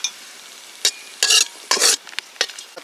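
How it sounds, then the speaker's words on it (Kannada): Raisins and cashews fry in ghee, a faint sizzle beneath several sharp, close stirring scrapes of a spoon against the pan, in irregular bursts. "ದ್ರಾಕ್ಷಿ ಗೋಡಂಬಿನ ಫ್ರೈ ಮಾಡ್ಕೊಳೋಣ."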